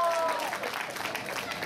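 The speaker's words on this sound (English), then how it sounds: "Let's hear a round of applause for Flora Maple." Brief applause and clapping from a comedy show audience, moderately loud and dense, with a voice audible over it at the start.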